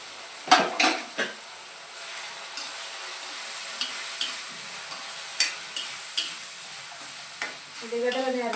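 Onions fry in a pan with turmeric and salt, giving a steady hiss of sizzling. A utensil scrapes and taps against the pan in irregular strokes, with a few sharper clinks near the start.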